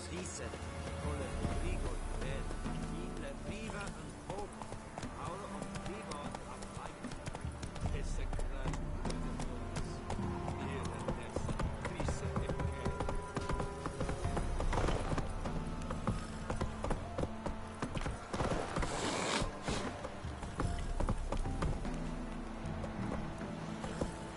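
Geralt's horse Roach galloping in The Witcher 3: Wild Hunt, rhythmic hoofbeats clip-clopping steadily over ground for a long stretch, with game ambience and occasional talk layered over the hooves.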